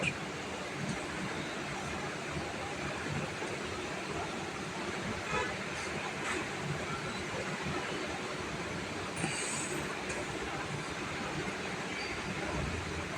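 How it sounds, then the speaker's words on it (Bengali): A passenger train crossing the Doyang bridge in hilly country, a steady rumbling roar of wheels and carriages heard from inside, moderately loud and unbroken with faint squeals. "দয়াং ব্রিজে উঠে গেছে ট্রেন"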